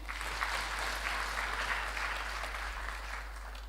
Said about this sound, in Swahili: Tuwapigie makofi